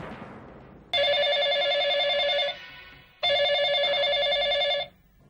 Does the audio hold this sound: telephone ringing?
yes